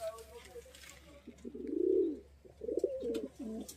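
A male pigeon coos in a loft, two rounded throaty calls rising and falling close to the mic, with faint background noise between them.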